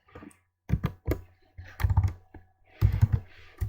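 Code being typed on a computer keyboard for a Kotlin programming tutorial: quick bursts of close, crisp key clicks separated by short pauses, with no talking.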